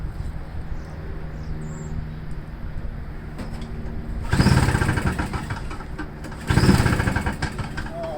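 A small engine, primed and on choke, is pulled over twice. Each attempt gives a short burst of sputtering, rattling cranking that dies away. A low background hum runs between the attempts.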